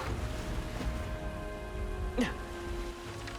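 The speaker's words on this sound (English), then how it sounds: "This bloody rain." Steady rain hisses and patters in the video game Metaphor: ReFantazio, a continuous wash of falling water with a faint tonal hum beneath and one brief brighter splash, no voices.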